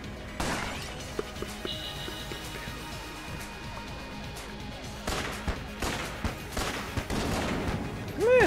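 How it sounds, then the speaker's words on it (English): Winchester rifle shots in the bullet-hell game Enter the Gungeon: scattered sharp gunshots and crashing impacts, spaced irregularly over game sounds, with a cluster of louder blasts near the end. "let's see how the Winchester rifle does as opposed to everything else"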